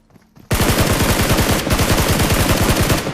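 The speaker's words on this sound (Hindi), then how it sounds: "अब पीछे की साइड ना शायद एक और बंदा था, उसने फायर किया था।" Rapid automatic gunfire in a battle royale shooter game bursts in suddenly after a brief quiet start, a loud, dense, evenly paced stream of shots that continues almost without pause.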